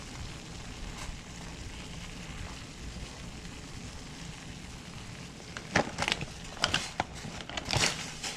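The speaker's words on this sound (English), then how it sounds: "So we got the water boiling" A pot of water boils for cooking ravioli, giving a steady rolling hiss that is joined near the end by a few sharper pops and bubbling bursts. The sound is close and carries no voices.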